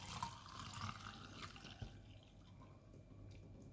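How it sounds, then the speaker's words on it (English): A blended drink is poured into a glass cup, giving a soft, close liquid trickle and splash that fades after a couple of seconds, with no talking. "you just get your glass cup and pour some amount of this into your cup"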